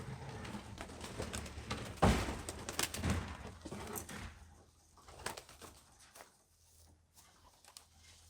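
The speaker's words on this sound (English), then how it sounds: "That pigeon's gone crazy." Pigeons cooing as they are released from their loft, with soft rustling and wing flaps, busier and louder early on and thinning out toward the end.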